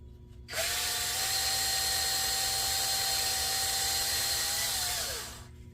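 A drill spins a chucked part from a Daiwa 1600c Silver Series fishing reel while it is polished with steel wool, a steady close whine lasting about five seconds before winding down.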